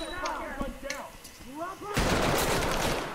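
Gunfire in the tactical shooter Ready or Not, a dense loud burst of shots that erupts abruptly after a short stretch of voices talking, sustained to the end.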